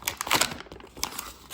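Crinkly plastic of a DIY Pusheen blind bag being torn open by hand: a quick flurry of close, sharp rustles and rips over about a second and a half, with no talking.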